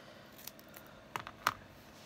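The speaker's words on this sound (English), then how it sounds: "And then I'm going to take my non-stick scissors." Non-stick scissors snip through folded foam in two quick crisp cuts, close and fairly quiet, over a low room hiss.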